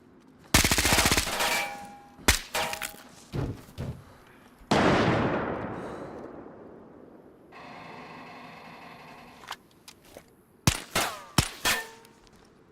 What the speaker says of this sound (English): What have you been shooting at this whole time?